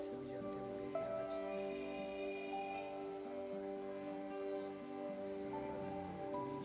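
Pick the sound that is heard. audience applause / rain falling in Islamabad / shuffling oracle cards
rain falling in Islamabad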